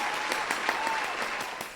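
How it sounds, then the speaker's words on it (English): Brief applause for the sponsors of a charity walk and 5K, a short steady patter of clapping with a few distinct claps standing out, fairly faint and continuous throughout. "let's give all of our sponsors a virtual applause"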